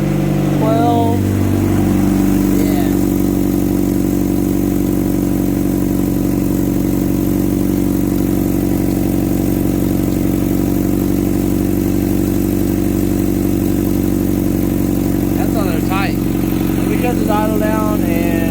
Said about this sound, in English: I definitely have an exhaust leak from the manifold